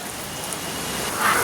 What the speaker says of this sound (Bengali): তো দেখুন কত বৃষ্টি হচ্ছে